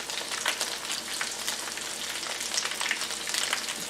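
Battered cauliflower frying in hot oil in a pan, a steady bright sizzle with crackling pops that carries on evenly throughout, close and fairly quiet with no talking.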